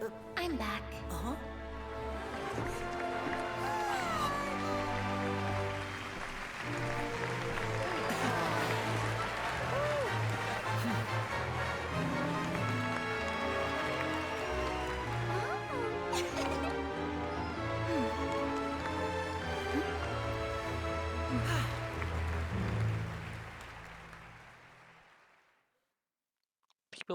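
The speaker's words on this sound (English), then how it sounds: "People clap." A crowd claps and cheers within the Genshin Impact game, a broad sustained clatter layered over game music and effects, holding steady for over twenty seconds before fading out.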